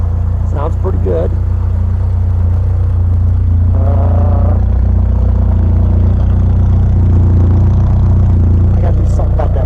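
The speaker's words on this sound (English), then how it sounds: "here she is running, idling. Sounds pretty good." A custom 1973 Ford Pinto engine idles steadily with a low, continuous rumble, loud and close, apparently through a worn muffler, with a few brief murmurs of speech over it.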